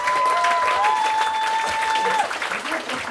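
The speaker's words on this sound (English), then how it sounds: "So let's give Harry a round of" An audience gives a round of applause at a talk on grounding techniques for nerves. Dense, steady clapping fills the clip with a few sustained tones over it, and the clapping thins slightly near the end.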